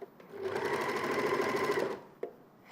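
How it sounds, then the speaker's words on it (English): An overlocker sewing machine runs in one steady, fast, continuous burst for about two seconds as it trims fabric edges, close and loud, followed by a single click. "the good thing about the Overlocker, it trims off any extra bits that you don't need"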